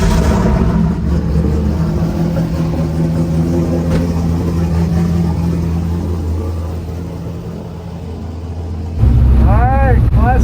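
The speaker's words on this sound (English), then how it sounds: "Got the F80. Gotta warm this thing up." A BMW F80 car engine warms up with a loud, steady low drone close by that softens briefly, then swells again near the end as a voice comes in over it.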